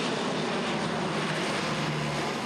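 A CAL FIRE firefighting airplane dropping pink retardant passes over a brush fire in Sorrento Valley, its engine making a steady, loud, broadband roar that holds without a break throughout.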